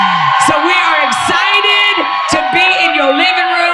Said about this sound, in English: So all that noise you're hearing, that's a whole bunch of people on fire for God.